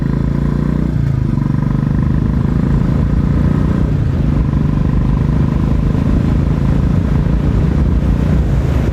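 A Royal Enfield Classic 350 BS4 single-cylinder motorcycle pulls away in first gear, its loud, deep, thumping engine rumble steady and close throughout.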